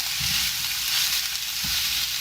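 Pork belly searing in a hot wok with no added oil as it renders its own fat, a dense, even, loud sizzle with two faint dull knocks, no voices.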